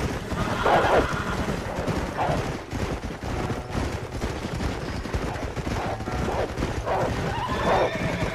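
Horses in the Red Dead Redemption video game whinny several times, the neighs rising over a dense, continuous game soundscape with hoof clatter and bursts of gunfire-like noise.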